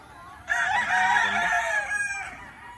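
A rooster from an imported breeding line crows once on a gamefarm, close and loud, a drawn-out strained call lasting a couple of seconds over faint background noise.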